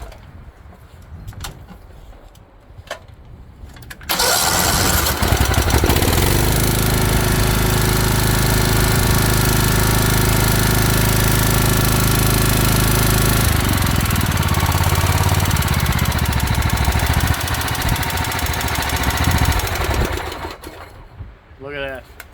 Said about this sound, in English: we'll give it a crank, see what happens.